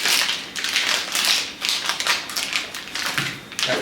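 Knife chopping smoked sausage on a cutting board for Cajun gumbo, a quick run of crisp, close taps in an uneven rhythm.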